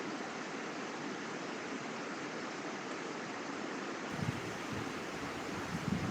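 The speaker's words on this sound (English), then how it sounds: "Does anyone hear the waterfall in the background?" Steady rushing waterfall noise picked up behind an online call, a broad continuous wash that stays constant and fairly loud throughout, with no talking over it.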